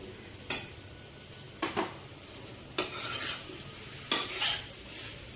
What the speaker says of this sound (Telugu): ఇప్పుడు ఇది వేగింది కదా, మనం ఈ దోసకాయ ముక్కలు వేసేద్దాం.